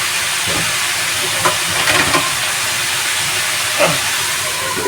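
Chicken pieces browning in their own rendered fat in a pan for a chicken with tomato sauce dish, giving a steady close hiss and sizzle with a few small pops and crackles, no talking.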